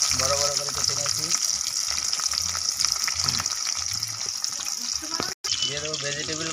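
Large-cut onions hit hot oil for sambar, giving a loud, continuous close sizzle with a brief break near the end and a few clattering stirs, while a voice talks intermittently over it.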